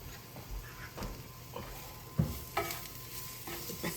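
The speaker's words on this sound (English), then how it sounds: "Just gonna kind of stir this around a little bit." Meat with Brussels sprouts, kidney beans and corn being stirred and fried in a pan, a soft sizzle under occasional scraping and tapping of the utensil against the pan.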